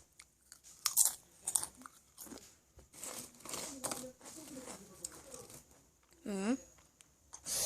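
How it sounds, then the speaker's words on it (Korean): Close crisp crunching and biting on Japanese honey butter potato chips, irregular crackly bursts with a rustle of the packaging, and a person speaking briefly between bites. "이 허니버터칩 아, 일단은 한번 먹어보겠습니다"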